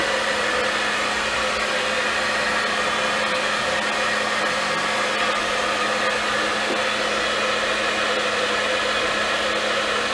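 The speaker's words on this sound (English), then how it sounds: "To help dry the hair with that S wave pattern in it." A hair dryer blows steadily while drying hair styled into an S-wave pattern, a loud, even rushing whine that runs unbroken for ten seconds with no voices.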